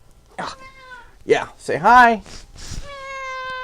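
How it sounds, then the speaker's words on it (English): A pet cat meows several times in a home, with clear tonal calls close to the microphone, mixed in with a person talking to it. "That's my cat, you guys see."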